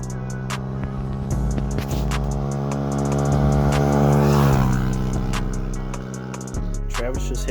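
A three-wheeler engine revs hard on a top-speed run, its buzzing note climbing and holding high before dropping off, then picking up again, loud and close with a steady whine throughout.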